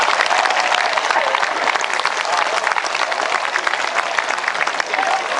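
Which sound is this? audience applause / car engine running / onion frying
audience applause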